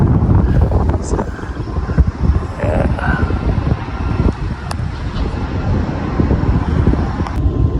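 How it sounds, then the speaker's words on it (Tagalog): Steady wind on a hilltop in summer buffets the microphone with a constant low rumble and occasional gusts, with no voices. "Paiba-iba yung hangin. Medyo mahangin."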